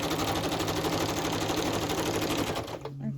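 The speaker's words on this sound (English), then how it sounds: "Even though it's glued, I want to still stitch the pocket as well." A sewing machine runs in a fast, steady stitching burr as it sews a pocket on altered packaging being made into an envelope, close and continuous before stopping near the end.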